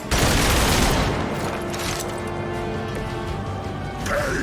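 Gunfire in the video game Marvel's Midnight Suns: a dense burst of shots and booms that starts sharply and holds loud, with a brief rising effect at the end, and no talking.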